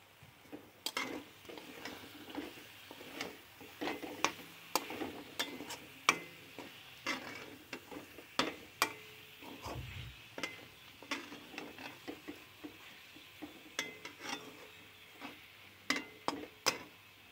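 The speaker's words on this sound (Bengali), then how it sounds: "একটু নাড়াচাড়া করে নিয়ে এবার এটাকে নামিয়ে নেব" A spoon stirs pointed gourd (potol) curry in a pan, making a steady run of light scraping ticks and taps against the metal, close and fairly quiet.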